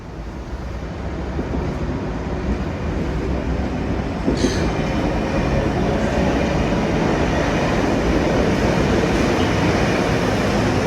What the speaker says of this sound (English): Here is another K-set coming into Circular Quay Station.